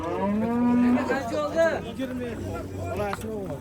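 A cow moos loudly and close by at the Beshariq cattle market, a long low call with harmonic overtones, while people talk in the background throughout.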